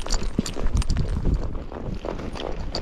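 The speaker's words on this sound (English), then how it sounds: "So while he's fresh, I'm going to try cantering on his bad lead, his left lead." A Tennessee Walking Horse canters uphill on a trail, on its weaker left lead. Hoofbeats thud in a quick, steady rolling rhythm, close and fairly loud, over a constant rush of wind and movement.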